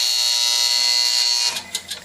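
Timer on a 1953 Tappan Deluxe Range stove buzzes in a loud, continuous electric drone for about a second and a half, then cuts off into a few clicks.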